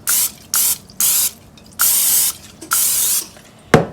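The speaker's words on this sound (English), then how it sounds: "then you want to spray your top mold" Cooking spray hisses out onto a cake pop mold in six short bursts, evenly spaced, close and loud, ending with a light tap.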